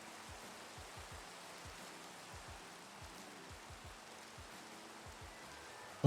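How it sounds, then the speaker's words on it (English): Steady rain in Minecraft, an even broadband hiss of falling water that holds at a constant moderate level for the whole stretch, with faint low thumps scattered beneath and no talk. "I'm gonna step outside and enjoy the rain"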